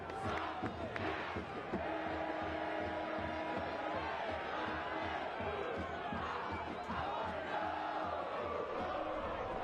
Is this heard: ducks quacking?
no